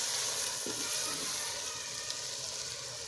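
Chicken fries in a clay pot with a continuous close sizzle and crackle, a brief stir-like knock early on, and no talking over it.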